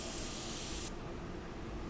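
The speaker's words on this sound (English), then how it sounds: "I'm going to spray blue on it." Blue alcohol ink sprays from a can onto an ink painting in a short, steady, close hiss that cuts off abruptly just before a second, leaving faint background noise.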